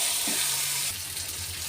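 A fish head and soaked gobindobhog rice being stirred in a hot pan give a continuous sizzle with soft scraping movement, close and steady throughout a short stretch.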